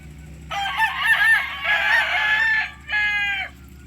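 A Golden Boy Sweater gamefowl stag crows twice, close and loud: a long strained cock-a-doodle-doo followed after a short pause by a briefer second crow, over a low background hum.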